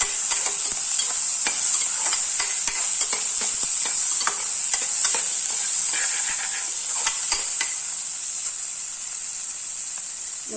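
Tomatoes sautéing in a pan for a mixed vegetable dish, giving a steady bright sizzle with repeated stirring clicks and scrapes throughout, with no talk.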